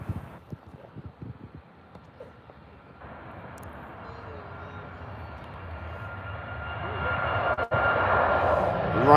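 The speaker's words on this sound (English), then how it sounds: "Ryanair 737 off into the skies." A Ryanair Boeing 737 takes off from Birmingham airport in fog, its engine roar starting faint and distant and swelling steadily louder, with some low handling noise early on.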